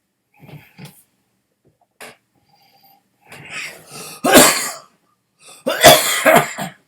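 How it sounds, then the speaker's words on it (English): A person coughs and clears their throat, first a few small throaty sounds, then two heavy, rasping coughing fits close to the mic near the end. "I've had this cough for over a week now"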